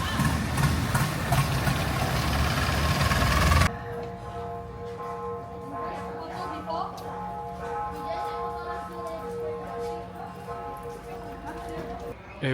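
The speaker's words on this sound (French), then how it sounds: "vraiment les moteurs sont à l'air libre et ils sont énormes, je pense que c'est des moteurs de voiture" Large car-sized engines running exposed in the open air beside a road in Thailand, a steady loud mechanical drone with harmonic hum, after a burst of louder broadband noise at the start; continuous and fairly close.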